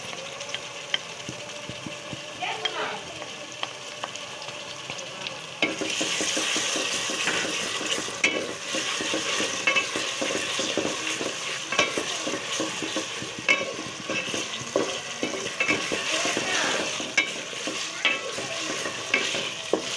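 Ginger and garlic frying in hot oil in a pan while being stirred for a Bengali chicken curry with ash gourd, a steady close sizzle with scraping spoon strokes that grows busier partway through, no talk.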